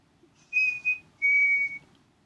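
A whistled chickadee two-note song: a short, higher clear note followed by a longer, slightly lower one, loud, close and pure-toned against near silence, with no talking.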